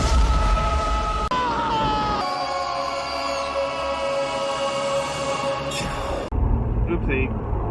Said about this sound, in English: We're misfiring pretty bad.